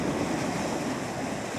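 Ocean water from the incoming tide washes in at Seward, Alaska, a faint, steady rush of surf mixed with some wind noise, heard alone.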